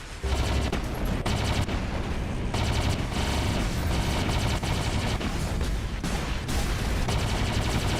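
Rapid bursts of robot gunfire hammer away in War Robots, loud and close, with long stuttering volleys broken by short gaps.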